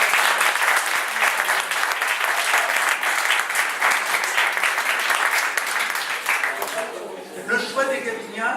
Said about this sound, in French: Si vous voulez, applaudir.